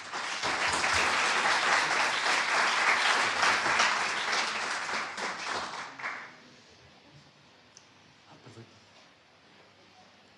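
An audience breaks into loud, sustained applause to welcome speaker José Parra at a conference on painting in the contemporary art market. The clapping fills the room for about six seconds, then stops abruptly, leaving quiet room tone.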